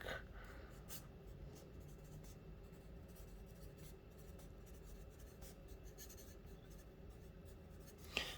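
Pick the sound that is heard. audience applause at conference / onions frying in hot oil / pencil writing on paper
pencil writing on paper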